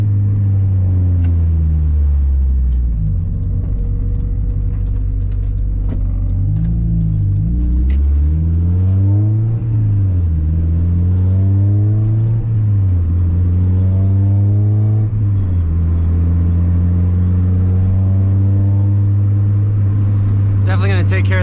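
Mazda Miata NA idling and being revved through a big 4-inch-tip muffler, the exhaust droning loud and close with rising and falling pitch sweeps over about twenty seconds; a voice talks briefly over it.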